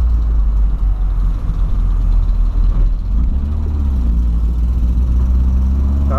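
A boxy Volkswagen Voyage with a carburetor not yet fully tuned, its engine held at high revs close by in a loud, steady drone with a slight rising and falling of pitch.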